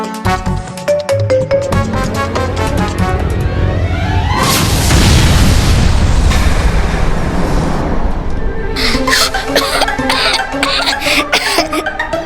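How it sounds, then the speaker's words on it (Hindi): An explosive goes off in a superhero fight scene: a broad, roaring burst swells in the middle and holds for a few seconds, then fades under ringing, dramatic effects and music. "जाके ये विस्फोटक फोड़ो"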